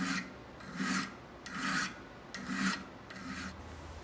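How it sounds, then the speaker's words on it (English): A sharp hand file rasping across hard steel on a damascus chisel, four steady back-and-forth strokes in an even rhythm, close and clear with no talking. "There is something extremely satisfying in removing hard steel with a sharp file."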